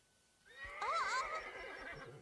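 A horse on a farm lets out a single loud, close whinny with a wavering, quavering pitch that rises and falls before trailing off, heard clearly on its own.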